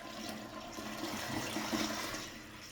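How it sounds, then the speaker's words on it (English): A toilet flushing indoors, a steady rushing of water swirling through the bowl at close range for a few seconds, broadband and fairly even with no voices. "Hold on, toilet flush."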